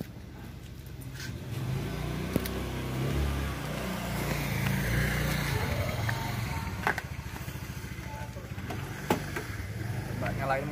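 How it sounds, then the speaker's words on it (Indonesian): A Toyota Kijang's engine starts and revs, a low, smooth running rumble that rises and falls with revving, heard at moderate distance among scattered clicks and background voices of people talking. "Coba nyalain mesin ya, guys."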